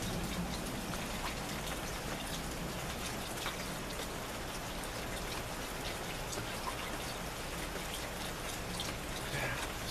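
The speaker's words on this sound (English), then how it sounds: "Just drip, drip, drip, drip, drip, drip, drip from all the trees." Water drips from trees after rain in a steady, dense patter of drops, close and continuous, with a faint murmur of voice in the background.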